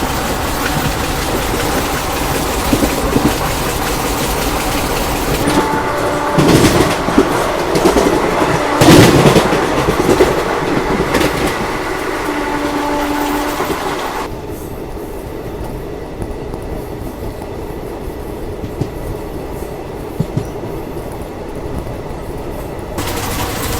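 Long-distance passenger train on the Jhansi to Delhi line, a loud steady rumble of wheels and carriages heard from inside, with rattling and clanks, then settling to a smoother, quieter roll.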